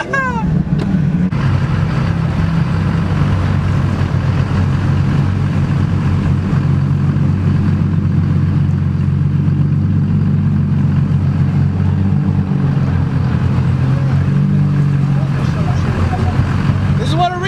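A 600+ HP brown Lexus IS300 runs loud and close, its engine rumbling and revving in a continuous heavy drone with shifting pitch throughout, while people talk over it.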